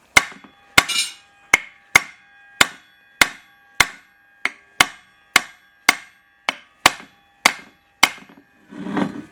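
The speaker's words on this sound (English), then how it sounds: "We're just going to hit them with the ball peen." A ball peen hammer drives welch plugs into a manual transmission shift cover with about a dozen sharp, ringing metallic strikes at a steady pace, close and loud, and a brief rustle at the end.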